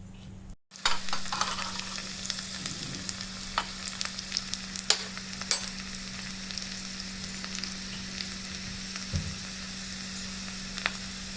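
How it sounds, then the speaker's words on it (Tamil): Continuous crackling sizzle of chopped garlic frying in hot ghee, with scattered pops and light stirring scrapes, close and steady. "பொடியாக நறுக்கி வச்சுருக்க பூண்டு சேர்த்துக்கிறேன்."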